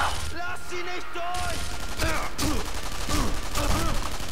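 Gunfire in the video game Sniper Elite V2 crackles as rapid overlapping shots and a fusillade of battle noise, loud and dense, with someone talking over part of it.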